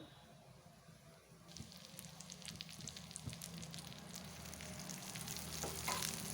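Milk-boosting greens with cumin fry in a pan, a faint soft sizzle that grows slightly louder, with light crackles and occasional stirring and no talking.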